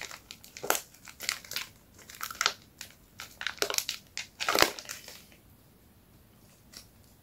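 Plastic packaging around fishing tackle is crinkled and torn open by hand, producing loud, irregular crackling and crushing bursts that fade out near the end.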